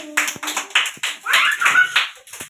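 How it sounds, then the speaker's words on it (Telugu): Anganwadi children clap loudly in a few uneven bursts of hand claps and taps, with scattered voices among them, close and fairly lively. "గట్టిగా కొట్టాలి"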